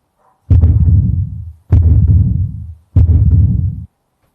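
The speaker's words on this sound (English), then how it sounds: "that's supposed to be a heartbeat" Three long, heavy low thuds of a heartbeat sound effect, each booming and sustained with a sharp attack, spaced evenly about a second apart and standing alone without any talk.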